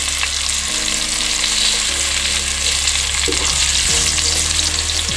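Continuous loud sizzling and crackling of browning onions and whole dried red chilies frying in hot oil, with occasional stirring scrapes in the pan.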